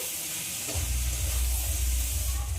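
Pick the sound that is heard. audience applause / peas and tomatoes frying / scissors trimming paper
peas and tomatoes frying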